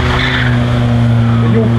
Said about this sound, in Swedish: Robert Olsson värmer upp däcken i sin 940.